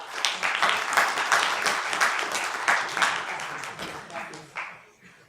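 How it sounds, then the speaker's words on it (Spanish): An audience breaks into welcoming applause before a lecture on La Raza Cósmica, a dense, steady wash of clapping that fades toward the end. "Vamos a darle un aplauso de bienvenida."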